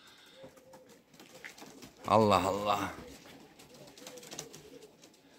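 Racing pigeons coo faintly at a home loft as they arrive from a 195 km race from Chimay, France, while a man nearby calls out loudly in the middle.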